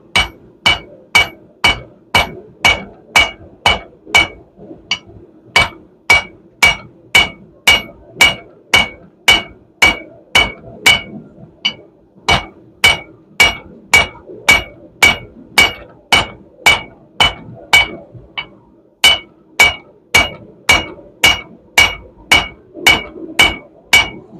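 A hand hammer forges a steel taper for a steak flipper with a bottle-opener handle. Loud metallic blows ring out in a steady, even rhythm of about two per second, dozens in a row, with one short pause partway through.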